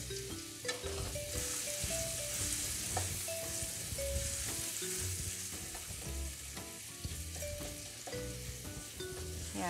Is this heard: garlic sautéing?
yes